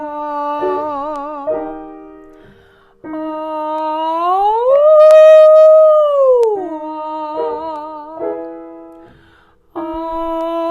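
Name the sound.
voice imitating a wolf howl in vocal warmup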